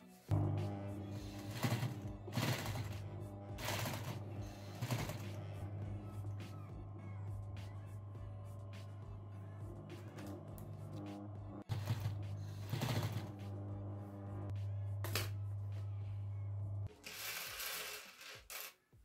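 A sewing machine stitches overlapped shirt sleeves in repeated quick bursts of rapid mechanical whirring, separated by pauses and a steady low hum, fairly faint and close.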